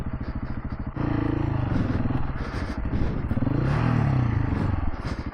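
A 2024 KTM 690 Enduro R single-cylinder motorcycle rides through a ditch, its engine chugging and rising in revs close up, with clattering and scraping from the bike under load.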